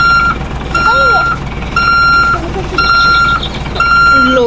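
A vehicle in the Roblox video game reverses, sounding a sharp electronic beep roughly once a second, about four to five times, over a low rumble with faint voices in the background.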